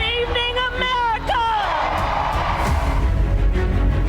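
Crowd at an election night rally roars and whoops, starting over a voice with sustained tones and then swelling into a broad, continuous mass of cheering and shouting throughout.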